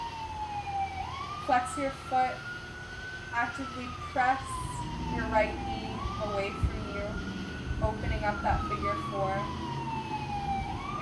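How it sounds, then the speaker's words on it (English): Emergency vehicle sirens wail outdoors, rising and falling in long sweeping cycles at moderate distance while someone talks steadily over them. "I'm doing this outside, sorry about the sirens, guys."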